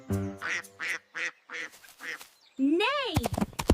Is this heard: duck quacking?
yes